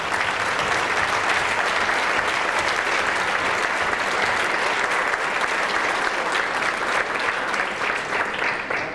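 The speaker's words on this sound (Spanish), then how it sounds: "les pido que le brindemos un fuerte aplauso a nuestro compañero Armando Chavarría Barrera" Political forum audience giving a loud, sustained round of applause for a colleague, a thick, continuous roar of many hands clapping that stays strong for the full nine seconds.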